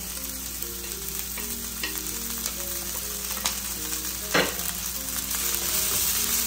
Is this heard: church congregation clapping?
no